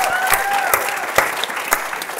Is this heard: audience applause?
yes